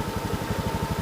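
A motorcycle engine idles steadily close by, its low uneven chug pulsing in a regular rhythm throughout, with no voices over it.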